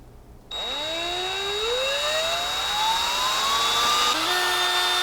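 A power drill tapping screw holes for Gotoh guitar tuners whirs up from silence, its pitch climbing steadily toward full speed, then shifts slightly near the end, loud and close with no talk.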